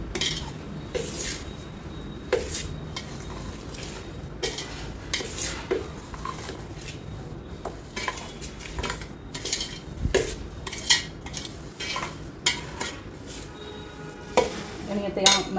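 Raw mango pieces are tossed with salt in a bowl for pickle, producing repeated clinks, scrapes and knocks of a utensil against the container in an uneven rhythm, close and moderately loud.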